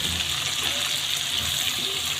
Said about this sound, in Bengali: তো আমি এবার পরিমাণ মতো জল দিয়ে দিলাম।